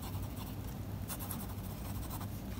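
Steady, continuous scratching of a Bril fountain pen nib across paper, close and fairly quiet, with small bursts of stroke noise and no voices.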